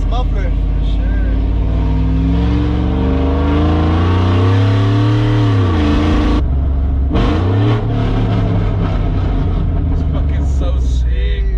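A truck fitted with new headers and exhaust revs loudly and close, its engine note climbing and falling over several pulls with a brief break, while people talk over it.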